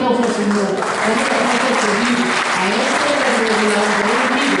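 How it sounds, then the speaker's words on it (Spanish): Loud, continuous applause from a church congregation, with voices speaking and calling out over the clapping throughout. "Denle un aplauso al Señor."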